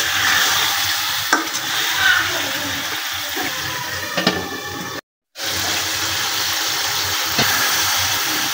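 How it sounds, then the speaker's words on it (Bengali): Pangas fish sautéing in a pan with oil gives a continuous sizzle and frying hiss, with stirring scrapes and a brief cut in the middle. "পাঙ্গাস মাছও এই জায়গায় কষাই নেবো একসাথে"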